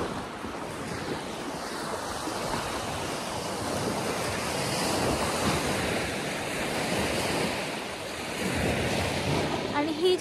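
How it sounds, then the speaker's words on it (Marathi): Lake waves washing steadily against a snowy, icy shoreline in winter in Akita, Japan, with a continuous broadband rush of surf and gusting wind buffeting the microphone, fairly loud and unbroken throughout. "मस्त त्या लेकच्या लाटा येत आहेत साईडला"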